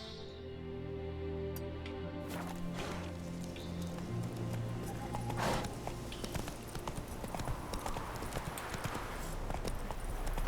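Hooves of the horse Roach clip-clopping steadily in The Witcher 3 game, a continuous rhythmic trot over layered game music and ambient noise, fairly loud and unbroken throughout.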